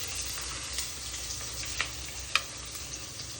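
Onion frying in oil with mustard seeds and cumin for tomato rice, giving a steady low sizzle with a few brief crackles and pops, close and fairly quiet, with no talking.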